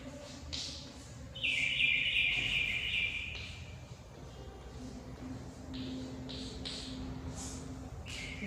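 Colourful birds chirp in an outdoor natural setting on the coast at Ganpatipule, with several small birds sending repeated short, bright calls and a longer trilling phrase, moderately near against a quiet background.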